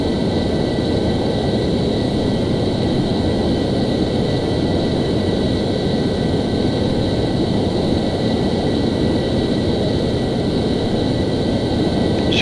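An F-14 jet cruises at about 400 knots in Microsoft Flight Simulator X, a loud, unbroken engine roar with steady whining tones layered on top and no talk.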